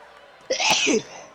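A person lets out one loud, close sneeze, a sharp inhaled gasp bursting into a short explosive blast before quieting.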